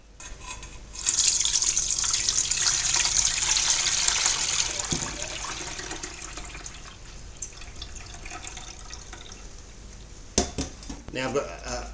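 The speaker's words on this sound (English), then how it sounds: "So all I do is strain it, same as you would if you've done a hot steep." Steeped grain liquid for a chocolate and vanilla stout being strained into a pot for boiling, a rushing pour that starts abruptly, runs for several seconds and then trails off into trickles, followed by a few clunks.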